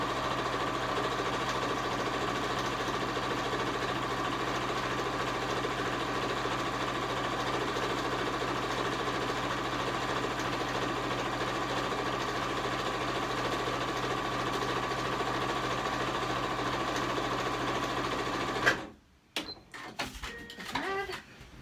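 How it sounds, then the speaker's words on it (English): A sewing machine sews a pillowcase seam in one long, unbroken run. It makes a close, even mechanical hum that stops abruptly, and brief handling clicks follow. "Keep the needle in the fabric, lift up your presser foot, and pivot. And sew the rest right off the edge."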